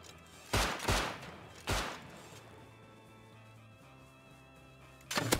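Video game gunfire: several loud, sharp bursts of shots in quick succession early on, one more shot a moment later, then a quieter stretch with game ambience before another loud burst at the end.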